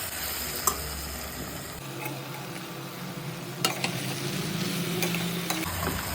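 Okra dropped into a pan for an Andhra-style yam and okra tamarind stew, frying with a steady close sizzle while a spoon scrapes and stirs, with occasional sharp clicks against the pan.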